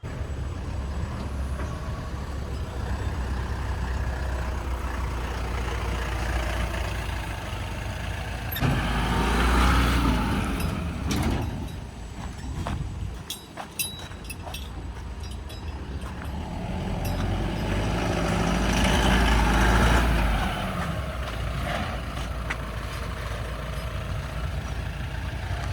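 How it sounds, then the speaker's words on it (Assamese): A Mahindra Bolero 4x4 pickup runs with a steady engine drone, swelling louder in two stretches as it revs, with no talking over it. "Bolero pickup 4x4।"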